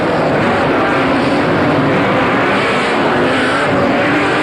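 Speedway race cars roar around Liverpool City Raceway during a 1985 Grand Nationals feature race, a loud, continuous engine drone filling the whole stretch with no break.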